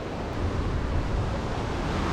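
Sea waves wash steadily onto a rocky stretch of shore at Lejano Oriente Beach Resort in Quezon province, a constant broad roar mixed with wind buffeting the microphone, with no voices.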